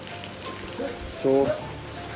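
Rain falls steadily during a monsoon-season motorbike trip near Varattumedu, Vagamon, as a continuous broadband hiss with a brief voice rising over it partway through.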